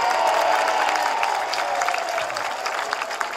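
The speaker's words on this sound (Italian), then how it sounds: "Fategli un applauso, dai." Rally crowd at an outdoor political campaign event in Dolo, Veneto, applauding steadily and fairly loudly, a dense wash of clapping that continues throughout and eases slightly toward the end.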